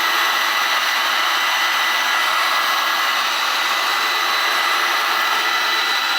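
Heat gun blowing hot air onto a glass beer mug being prepared for gold foil printing, a steady, loud, unbroken airflow roar lasting throughout with no talk.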